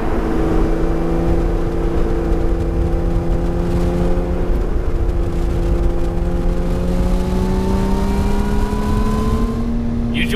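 A 2020 Lotus Evora GT sports car pulls away on the road, its engine note rising steadily in pitch as it accelerates through a gear, loud and close, with a continuous hum of road and wind under it and no talking.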